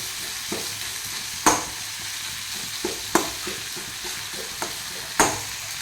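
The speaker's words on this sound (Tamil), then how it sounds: "நல்லா ஸ்பீட் ஃப்ளேமில் வச்சு நான் கோல்டன் ப்ரௌனாக ஆக்குறேன்." Tomato-based food frying on a high flame until golden brown: a steady sizzle in the pan broken by repeated sharp scrapes and clacks of stirring, spaced about every second or so.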